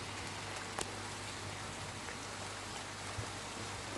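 Steady nighttime rain from a moderate July thunderstorm in the Gard, France, a dense, even hiss with a couple of faint patters standing out, heard alone without voices.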